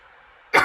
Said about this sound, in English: now excuse me because I have to cough.